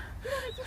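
A single short, close gasping breath from someone out on a workout run, sharp and breathy with a rising and falling tone, and no talk over it.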